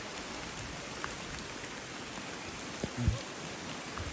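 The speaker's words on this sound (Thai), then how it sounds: "อันนี้ขนาดฝนตกนะ" Steady heavy rain pours down at a campsite by a stream, a continuous dense hiss of drops with a brief low thump near the end; no one speaks.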